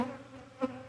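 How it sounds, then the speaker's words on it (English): Agitated honey bees buzz close around a beekeeper checking brood in January, a steady low drone with one louder swell as a bee passes near. "the bees are not too happy because they are all over me already."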